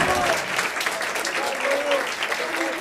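Applause from an audience at an Erasmus+ welcome reception, a dense steady clatter of many hands filling the room, with faint voices mixed underneath throughout.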